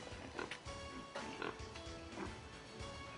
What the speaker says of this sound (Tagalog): O, tingnan nyo po yung baboy natin.